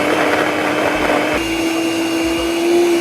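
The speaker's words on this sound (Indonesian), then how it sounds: "Blender." Kitchen blender grinding ginger and spices with oil, a steady loud motor whir with a strong hum, the grinding texture shifting partway through, no talk.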